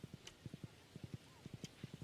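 Horse hooves clip-clop in a steady trotting rhythm in the Stardew Valley video game, crisp repeated paired beats at moderate volume with no talk.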